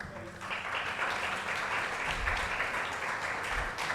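An audience at an open-mic poetry and awards evening gives sustained applause, a dense, even wash of clapping that runs throughout without pause.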